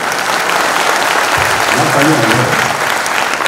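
A crowd at a public gathering claps, steady and broadband throughout, while a voice speaks over the sustained applause.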